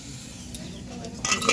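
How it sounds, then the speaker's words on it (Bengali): A little water poured into a pan of cooking greens, giving a soft hiss and sizzle that swells near the end over a steady low kitchen background. "এই যে হালকা একটু জল দিয়ে দিচ্ছি।"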